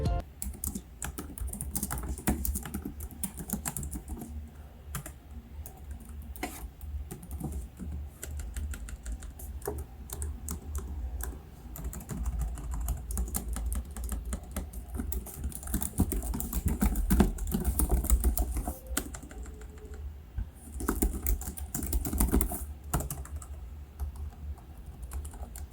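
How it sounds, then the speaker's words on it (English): Steady, rapid typing on a Lenovo IdeaPad S340 laptop keyboard, with crisp clicky keystrokes in a continuous flow and occasional heavier taps, close up with no talking. "typing on it feels like using baby mechanical keyboard"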